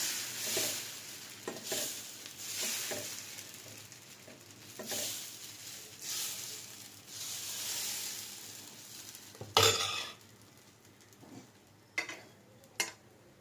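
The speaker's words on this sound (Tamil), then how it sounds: "தோசைக்கு ஊற்றும் போது எப்போதுமே நடுவுலேருந்து வேகமாக ஆரம்பித்து" Dosa batter hits a hot pan with a steady, close sizzle that swells and fades in waves, broken by a few sharp clinks and scrapes of utensils near the end; no one speaks.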